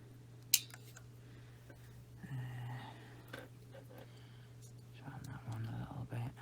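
Polygel nails are cut down to length with one crisp, close snip early on, followed by soft handling noises and faint whispery rustling.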